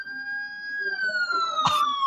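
Police siren wailing in a long sustained tone that slowly bends downward, moderately distant, with a short burst of broadband noise near the end.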